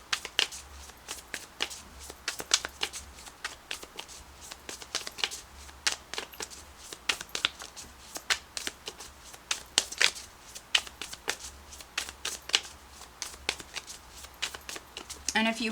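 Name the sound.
tarot cards being shuffled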